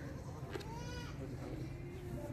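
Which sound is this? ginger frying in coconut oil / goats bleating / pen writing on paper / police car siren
goats bleating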